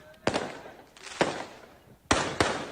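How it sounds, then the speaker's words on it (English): Four sharp firework bangs burst out during street riot chaos in France, each one loud and near, arriving in two pairs about a second apart with a brief decaying tail after each crack. "Fireworks."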